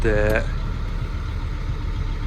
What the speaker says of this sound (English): why are you revving up?